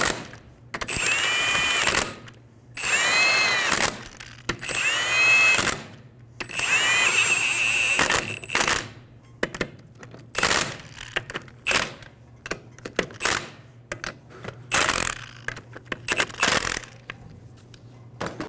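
A power tool snugs lug nuts onto a 2007-2011 Toyota Camry rear wheel, giving several loud, close whirring bursts followed by a string of short sharp clicks and taps.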